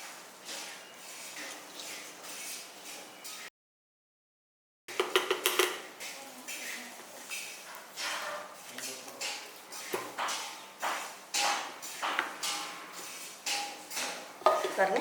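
A spoon stirs milk into leftover white sugar syrup in a pan, a steady run of rhythmic scraping strokes that grows louder and more regular after a brief silence.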